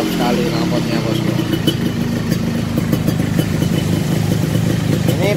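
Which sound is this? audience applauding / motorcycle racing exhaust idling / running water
motorcycle racing exhaust idling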